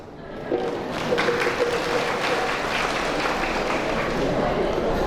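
An audience at a religious sermon claps together, a dense, sustained burst of applause that swells in and holds steady for several seconds, moderately loud with room ambience.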